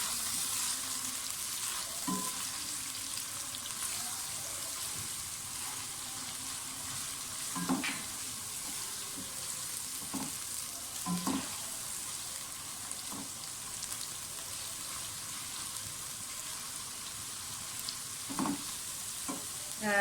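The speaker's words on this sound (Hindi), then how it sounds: "प्याज फ्राई हो जाए तो लहसुन अदरक का पेस्ट डाल दें।" Continuous close sizzling of garlic ginger paste frying with onions in a pan, with occasional scraping and stirring knocks, no voices.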